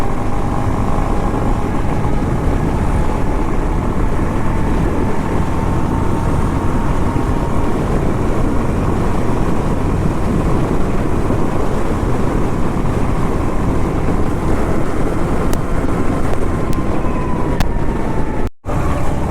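A Honda CB350 fitted with a Silver Stallion performance exhaust drones steadily under throttle, its engine note climbing and easing beneath heavy wind rush for a long, continuous stretch, with no speech.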